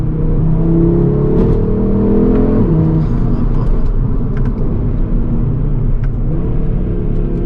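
A 2022 Audi RS3's 400 bhp five-cylinder engine revs and accelerates hard with a throaty, rising roar, loud and close, gear changes breaking the steady drone.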